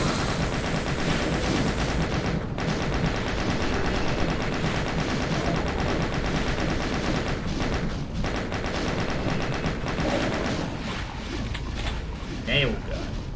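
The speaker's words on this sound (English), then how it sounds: "Nail gun." Rapid nail gun fire in the video game Doom, dense continuous mechanical bursts layered with explosions and game noise, loud and constant, with the shooting thinning out near the end.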